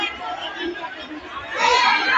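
Supporters at a meet and greet form a dense crowd of chatter and shouting that swells louder toward the end, with voices overlapping throughout.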